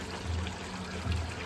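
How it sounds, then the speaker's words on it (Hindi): Two glasses of water are poured into a kadai for cooking biryani rice, making a steady, close splashing pour that swells briefly twice. "गाइस इसमें एक कढ़ाई और चढ़ाई है, उसमें डाली है 2 गिलास पानी"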